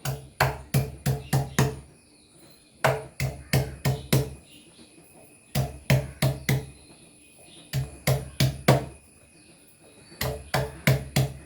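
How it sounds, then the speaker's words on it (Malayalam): Onions being crushed by hand, close sharp thumps in rapid bursts of four to six strokes, separated by short pauses. "ഉള്ളി ചതച്ചെടുക്കട്ടെ."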